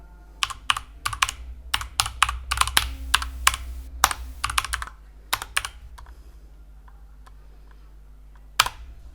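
Fingers type quickly on a computer keyboard, entering a web address as a dense run of close, crisp key clicks that thin out to a few scattered taps, then one final keystroke.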